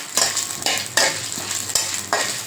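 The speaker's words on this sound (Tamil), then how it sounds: "உளுத்தம்பருப்பு போட்டு நல்லா வறுப்பட்டு விட்டுருங்க" Urad dal fries in a hot pan with a constant sizzle, broken by regular scraping stirs about every half second, close and fairly loud.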